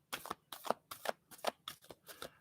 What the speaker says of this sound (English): So let's get a card for Mars.